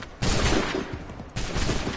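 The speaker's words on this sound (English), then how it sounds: "Open fire." Volley of musket gunfire in Assassin's Creed 3, two dense loud bursts of massed shots, each followed by sustained crackling rumble.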